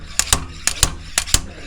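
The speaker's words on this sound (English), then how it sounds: "I was just slide hammering" Sharp metallic slide hammer impacts, six in three quick pairs, yanking a stuck clutch part from a Toyota AE86, loud and close.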